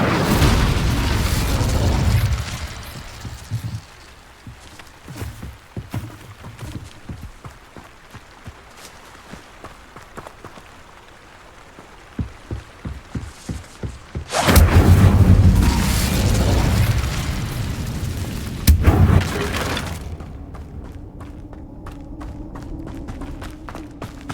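A fire spell cast during Hogwarts Legacy gameplay bursts out in several loud, broadband whooshing blasts, one long roaring burst in the middle and a shorter one after, over a rumbling game backdrop with scattered crackles.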